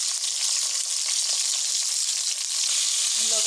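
Pointed gourd pieces sizzle steadily in hot oil in a pan, a dense, bright, continuous crackle heard close up with no speech.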